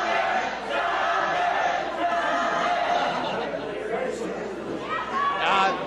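A wrestling event crowd chants and roars at an Eliminator 2016 show, a dense wall of voices with shouts and laughter swelling and fading.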